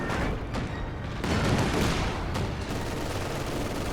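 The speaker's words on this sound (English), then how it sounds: "Heavy artillery is coming in against Nick here" Heavy artillery fire in Company of Heroes 2 as explosions and booming impacts pile into a dense, rumbling barrage, loud and sustained across the whole stretch with no voices over it.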